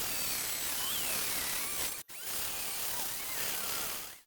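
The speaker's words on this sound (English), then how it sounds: "I'm going to get some sanding done" Steady broadband whir of a walnut serving tray being sanded on a wood lathe, continuous and close, with one brief dropout midway before the abrasive hiss resumes and fades at the end.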